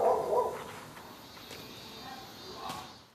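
A neighbour's dog barks a few times, faint and distant, in a quiet residential neighbourhood outdoors, under soft background noise and a bit of low talk.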